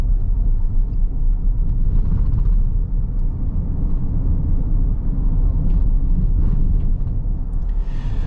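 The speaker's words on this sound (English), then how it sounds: "just a little bit of road noise coming from the bumps and things like that" Low, steady road rumble inside a 2024 Kia Carnival minivan while driving, a continuous muffled drone with faint thumps from bumps and no talk.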